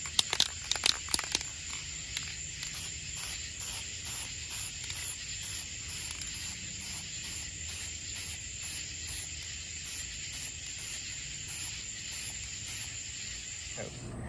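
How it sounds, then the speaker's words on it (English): Satin varnish hisses from a spray can onto an action figure in short repeated bursts, a faint rhythmic spritzing, with a few clicks at the start. "In here, I'm spraying with a satin varnish"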